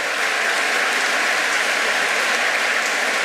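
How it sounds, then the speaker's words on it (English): A concert audience applauds two award winners at a community and heritage concert, a steady, dense wash of clapping that stays even and fairly close throughout, with no voices over it. "give him a round of applause"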